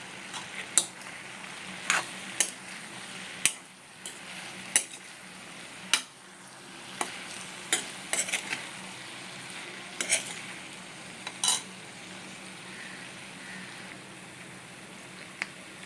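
Sambar powder and chili powder are stirred into okra, drumstick and potato frying in a pan: a low steady sizzle punctuated by crisp spatula knocks against the pan roughly every second, alone without voices.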